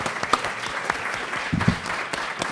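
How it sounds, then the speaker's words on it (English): An audience applauds panelists steadily, a continuous wash of clapping with a few sharper individual claps standing out near the front. "Let's give everyone, panelists, a round of applause, please."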